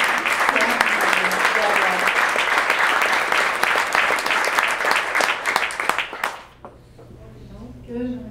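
Enthusiastic audience applause at a centenary recognition evening, loud and sustained clapping from a crowd that fades quickly near the end, followed by a brief voice.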